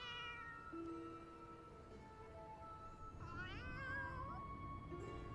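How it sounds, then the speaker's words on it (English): Two cats in Final Fantasy XIV meow several times in drawn-out, wavering calls over soft game ambience, with no talking. "Oh, 2 cats."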